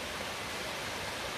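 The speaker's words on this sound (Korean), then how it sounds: "정릉에 있는 청수폭포입니다." Cheongsu Waterfall at Jeongneung on Bukhansan pours as a steady, dense rushing hiss of falling water, close and unbroken throughout the short clip.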